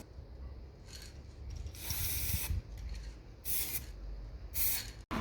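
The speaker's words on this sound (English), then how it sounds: "I moved on to spray painting gold all the metal parts of" Several short bursts of an aerosol can spraying gold paint onto the metal parts of a valet stand hiss close by, separated by pauses with faint rubbing and handling noises.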